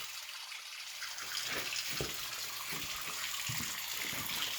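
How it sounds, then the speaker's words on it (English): Water trickles and drips from a pipe connected to the back of a faulty steam boiler, a faint, irregular patter of drops over a low steady hiss, starting quietly and growing slightly busier. "this pipe is connected directly to the back of the boiler at one of the lowest points, and we only have a drip coming out of it"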